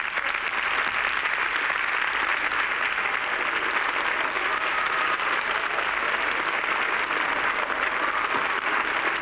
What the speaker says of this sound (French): On applaudit Patrick Zard.